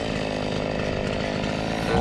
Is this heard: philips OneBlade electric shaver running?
no